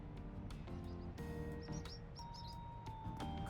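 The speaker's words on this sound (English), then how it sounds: "Good morning, birdies. You sound extra happy today." Birds chirp in a morning scene from the video game Trails Beyond the Horizon, short high tweets scattered over soft background music, faint and gentle.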